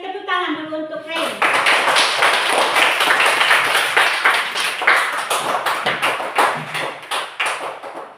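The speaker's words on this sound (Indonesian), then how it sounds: "kita beri tepuk tangan dulu untuk Ray" A classroom of students claps for a classmate, a sustained, energetic round of many hands close by, breaking into uneven rhythmic clapping toward the end, with a voice speaking briefly before it begins.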